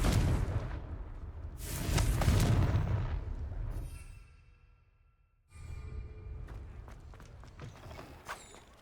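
A Confringo blasting curse explodes in the Hogwarts Legacy video game: a loud, broad rumbling burst swells and fades over a couple of seconds, leaving a near-silent gap before softer game sounds resume.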